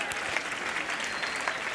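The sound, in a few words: round of applause from audience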